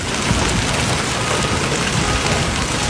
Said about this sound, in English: Residents shared videos to NT Sage showing hail battering their homes and businesses in the East Tampa area.